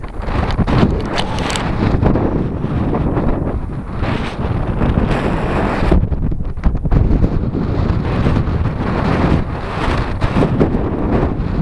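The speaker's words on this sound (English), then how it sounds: "it's so bloody windy" Strong wind on Dartmoor buffeting the microphone in a constant loud roar with heavy low rumble, gusting throughout with no other sounds standing out.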